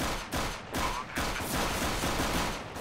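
Rapid bursts of automatic gunfire in the shooter game CS:GO, loud and close, with several volleys overlapping and no talking.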